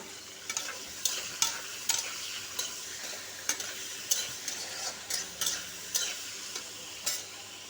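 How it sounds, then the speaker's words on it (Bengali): Yardlong beans fry in leftover oil, a soft, even sizzle punctuated by regular, evenly spaced ticks of a spatula stirring against the pan. "এবার বরবটিটাকে ভেজে নেব।"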